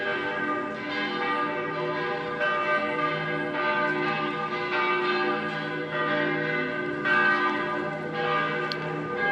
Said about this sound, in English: Do you hear the bells?